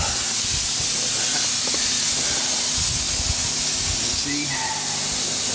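A steady, loud hiss of air escapes from an air line valve under a bus being converted, filling the whole stretch continuously, with faint low rumbles and handling noise beneath it.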